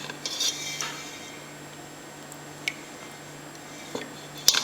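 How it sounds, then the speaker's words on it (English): Thick homemade fermented yogurt spooned into a storage container, heard as a few soft wet squishes and light clinks of the spoon against the container, spread sparsely over a quiet background. "we can spoon it into the container that we're going to store it in."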